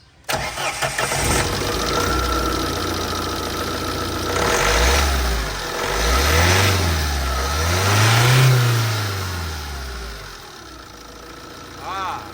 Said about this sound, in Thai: เปลี่ยนสายเสร็จเรียบร้อยมาสตาร์ทดูว่าสายพานดันไหม